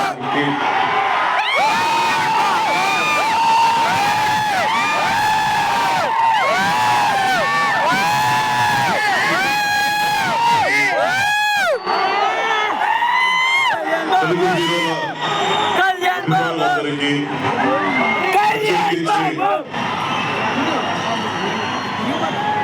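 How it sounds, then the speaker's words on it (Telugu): Huge crowd at the Game Changer pre-release event screaming and cheering without pause, with repeated rising whoops and shouted chants, loud and dense throughout. "మీరు కూడా ఆ అరుపులు కేకలు వినేయండి మరి"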